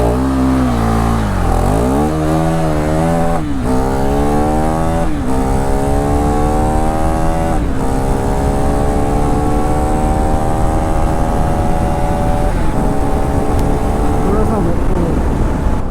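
A KTM 390 Enduro R motorcycle in street mode pulls away in first gear, its single-cylinder engine revving up loud and close with rising, sweeping pitch, easing into a steady higher drone, with brief shift dips along the way.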